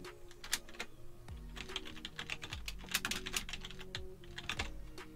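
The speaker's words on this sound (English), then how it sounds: "What I'm going to do is I'm going to type comp" Typing on a computer keyboard while coding in Android Studio: a steady stream of close, crisp key clicks with irregular rhythm and occasional heavier keystrokes, no talking.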